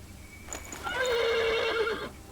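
A single horse whinnies close by in a medieval setting, a loud rising then quavering neigh lasting about a second after a brief quiet thud.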